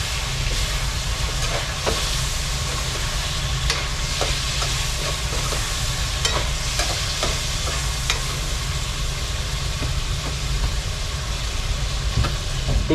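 Chicken adobo with bay leaves being stirred in a sizzling pan, a steady frying hiss running throughout with scattered scraping clicks from the spoon.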